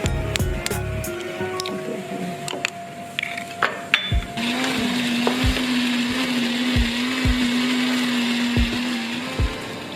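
A blender grinds fish paste with a little water, whirring loudly and steadily after some clattering kitchen knocks, its motor droning on and on at close range.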